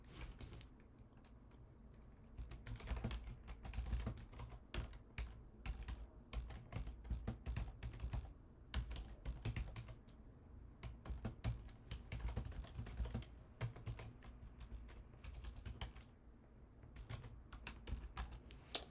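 Rapid typing on a computer keyboard fills the clip, with dense irregular clicks and keystrokes running continuously at close range and no talk over them.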